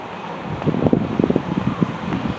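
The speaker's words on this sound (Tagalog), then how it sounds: "Windy talaga, windy." Strong wind at a seaside resort buffets the microphone with a constant roaring rumble and low gusty thumps.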